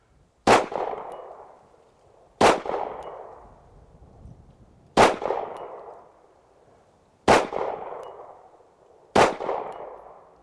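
FN-509 Tactical pistol fired at targets, five sharp loud shots spaced a couple of seconds apart, each followed by a ringing metallic clang that decays.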